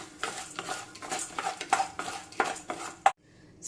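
Spoon scraping and clinking against a hot kadai while urad dal is stirred on low flame for sambar powder, with irregular rattling strokes and a sharp clink near the end before a brief quiet.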